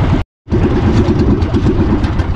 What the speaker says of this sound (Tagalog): parang bugak-bugak na yung ating makina. Wala na sigurong gas. Ayan, namatay na.